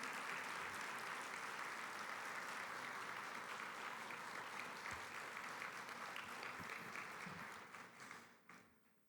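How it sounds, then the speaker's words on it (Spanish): An audience at an economic and political forum in Peru claps in sustained welcoming applause that fades out near the end. "muy sintomático los aplausos de bienvenida de todos ustedes"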